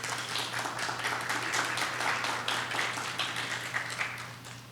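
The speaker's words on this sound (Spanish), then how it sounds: "recibamos con un fuerte aplauso" An audience at an academic medical conference welcomes a speaker with sustained applause, a steady wash of many hands clapping at moderate volume over a low constant hum.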